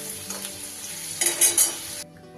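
Potatoes frying in oil with salt, a close, steady sizzle broken by a few sharp bursts of stirring scrapes in the pan, with no voices.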